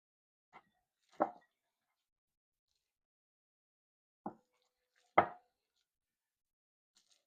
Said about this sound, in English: I just usually use my hands and I just mix it up